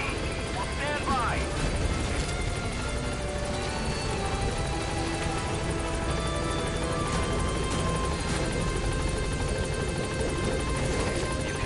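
A helicopter in Metal Gear Solid V thrums steadily throughout, a continuous rotor and engine drone sitting under game sound effects and chatter, holding an even level across the stretch.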